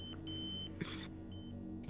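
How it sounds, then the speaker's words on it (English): A cell phone beeping with faint, sustained high electronic tones that start and stop in a quiet room, broken by a short rustling burst midway. "the cell phone beeping"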